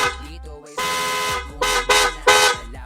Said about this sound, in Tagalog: narinig nyo kung gaano kalakas yung ating busina